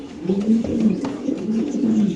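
A white Spanish pigeon coos close by, giving a series of soft, rolling low calls repeated in quick succession over about two seconds, clear and alone without any talk.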